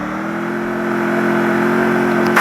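Motorbike engine in the Free Fire video game, a steady mid-pitched hum that rises slightly in revs over a couple of seconds, loud and close, with no talk over it.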